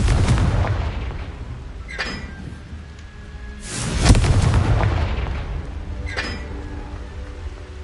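Spell blasts from Confringo in Hogwarts Legacy burst out as repeated loud booms, roughly three broad impacts spaced a couple of seconds apart over a rumbling background, with no voices.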